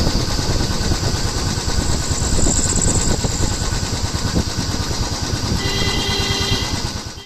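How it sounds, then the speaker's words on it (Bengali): A motorbike engine drones loud and steady during a ride toward Sonajhuri, with a continuous close buzzing hum and wind noise and no pauses. "আর তারপরে বাইক নিয়ে বেরিয়ে পড়লাম।"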